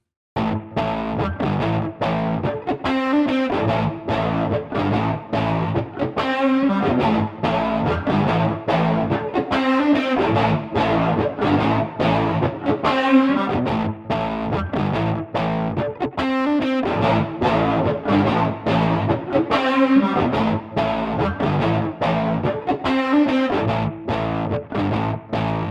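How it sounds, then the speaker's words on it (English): An electric guitar plays chorded phrases through the Orchid plugin by W.A. Production, with a shimmering chorus effect and light distortion, steady and close, with brief pauses between strums. "You can also achieve some classic electric guitar tones, chorus tones with Orchid."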